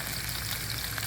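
Tiny burger patties sizzle steadily in hot grease as they are flipped, a dense, close frying hiss with no break.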